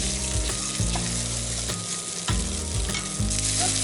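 Fried tempering of cumin, dried red chilli and asafoetida poured into boiled thick arhar dal, giving a loud, steady crackling sizzle with sharp bursts and a faint stirring clatter throughout.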